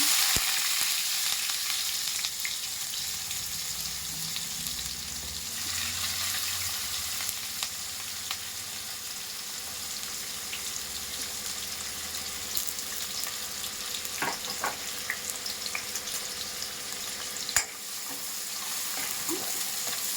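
Urad dal, cumin and mustard seeds frying in oil for an egg curry tempering, a steady bright sizzle with faint crackles and occasional stirring taps, one sharp knock near the end.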